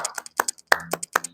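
A class does a rhythmic clap routine, two quick claps to a beat repeated in short bursts, sharp hand claps close by with a few lighter taps between.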